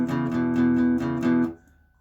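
Quick, even acoustic guitar strums in a fast steady rhythm, close and clear, ending with the chord cut off and a faint ringing tail.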